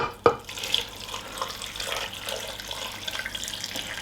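Vegetable stock pours from a container over carrots in a pot, a soft, steady splashing trickle that starts with a small knock and runs on quietly, close by, with no talking.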